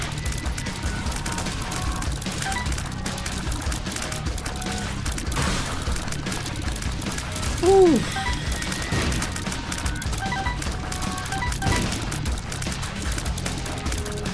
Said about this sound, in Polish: To są wybuchy.